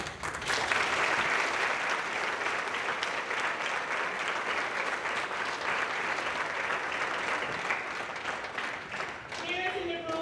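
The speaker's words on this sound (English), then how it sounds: "you students a round of applause." Sustained applause from a room full of students, teachers, counselors and parents at a university college-bound scholars youth town hall, loud and steady for about nine seconds before fading at the end.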